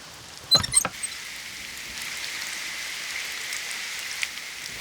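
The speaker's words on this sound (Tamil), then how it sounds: "மழை பெய்யுது" Rain falls in a steady, even hiss of patter on surfaces, preceded by a few brief knocks near the start and continuing alone for several seconds.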